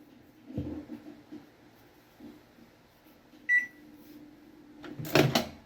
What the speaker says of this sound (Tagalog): On muna natin ulit yung microwave.